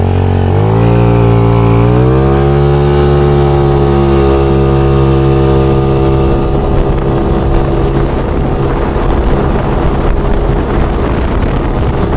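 A Tao Tao Racer 100cc sport motorbike engine revs up in a rising whine, then settles into a loud, rough drone with wind buffeting the microphone.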